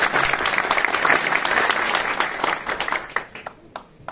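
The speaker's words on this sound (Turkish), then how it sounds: "Erdem Karay'a kocaman bir alkış istiyor" A crowd applauds at a gathering with the Kartal mayor in Istanbul, a dense burst of clapping that holds strong, then thins into scattered claps and fades near the end.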